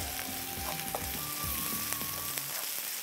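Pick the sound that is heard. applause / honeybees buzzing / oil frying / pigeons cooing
oil frying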